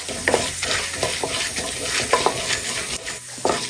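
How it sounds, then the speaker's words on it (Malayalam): Chana dal and urad dal frying with mustard seeds in hot oil, a steady close sizzle under repeated scraping stirs of a spoon against the pan, with no voices. "ഒന്നര ടീസ്പൂൺ കടലപ്പരിപ്പ് ഒന്നര ടീസ്പൂൺ ഉഴുന്ന് പരിപ്പും കൂടി ഇട്ട് കൊടുക്കാം ഒന്ന് ഇളക്കി കൊടുക്കാം"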